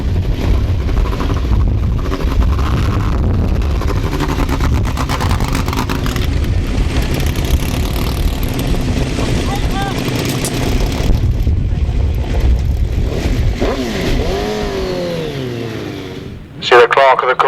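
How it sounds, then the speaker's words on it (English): 1000cc sidecar outfits race on a grasstrack, their engines a continuous loud roar and drone with revving swells throughout, under a commentator's voice over the public address. "Matt Fulmer and Andy Wilson, outfit number 5. For this second heat of the 1000cc chairs."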